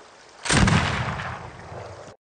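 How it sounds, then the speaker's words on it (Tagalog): A rifle fires once in a frontier forest hunting scene, a sudden loud close blast followed by a long rumbling decay that lasts over a second before cutting off. "Nakakita si Glass ng USA, itinutok ang baril, at tumira ng eksakto"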